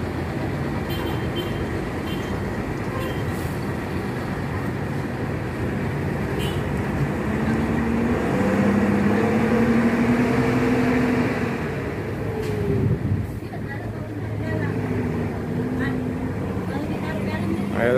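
An ALS intercity bus rolls along an Indonesian road toward Medan, heard from inside as a steady engine rumble and road roar, with the engine note rising and falling at moments, while someone speaks over it.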